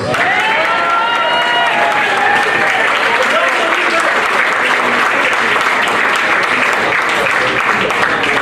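A banquet audience claps loudly and steadily for a youth U15 football coach. The dense applause stays close and even from start to finish, and a few voices cut through it.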